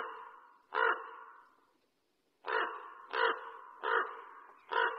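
A raven calls in the Arctic snow near Churchill: one harsh caw, a pause, then four more loud, close caws in quick succession, with no talking.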